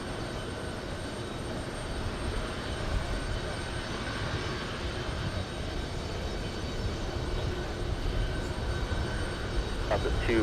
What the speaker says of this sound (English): Next one to take off, who is it? We have Delta 288 flying to Venice.